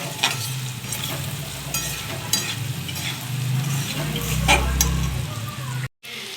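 Amla pickle is stir-fried in oil until the excess water cooks off, with a loud, steady sizzle and repeated scraping strokes of a spatula against the pan, then a sudden brief cut to silence.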